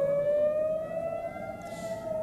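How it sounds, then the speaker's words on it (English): Air raid sirens sound across Jerusalem at night: a steady, sustained wailing tone, somewhat distant and moderately faint, with no talk over it. "As you can also hear, sirens were activated in Jerusalem at around 1:45 a.m. local time."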